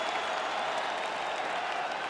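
A large arena crowd in the EA Sports UFC 5 video game cheers and applauds after a full five-round fight, producing a dense, steady roar of hissing claps and voices that holds at an even level throughout.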